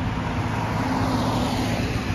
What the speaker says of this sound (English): One more car coming through.